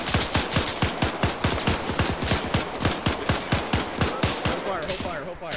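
Rapid machine gun fire in a World War II D-Day airborne video game, a steady stream of sharp close shots for several seconds under faint in-game voices.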